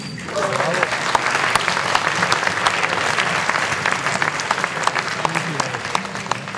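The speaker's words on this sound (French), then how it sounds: "applaudissez-vous" An audience bursts into dense, steady applause after a group singing performance at an evening talent event, the clapping continuous and close, with some voices mixed in.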